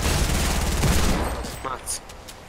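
Gunshots in the video game Fortnite, a loud dense crackle of overlapping shots that fades into scattered noise, with a voice talking over it.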